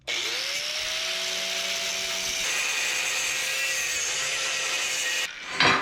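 A grinder spins up and bites into a steel coil spring for a 1961 Chevrolet wagon, producing a loud, continuous whine over harsh cutting noise that shifts pitch as it is tapered, ending with a brief clatter.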